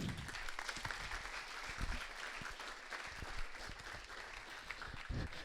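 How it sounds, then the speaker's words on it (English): An audience at a Speck&Tech tech meetup in Trento applauds a speaker as she is introduced, a steady wash of many hands clapping throughout at moderate distance, with no talk over it. "One is here with us, CHIARA, GHIDINI, a big applause for her."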